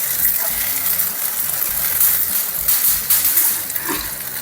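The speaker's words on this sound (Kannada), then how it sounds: "ಹುಣಸೆಹಣ್ಣು ನೀರಲ್ಲಿ ನೆನೆಸಿದ್ರಲ್ಲ ಅದು ಹಾಕ್ಕೊಳ್ಳಿ" Soaked tamarind water pours into a pan of raw mango gojju, a steady close gush of liquid running for several seconds with no talk.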